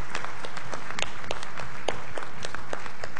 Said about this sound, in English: Let's stand up and do a proper applause.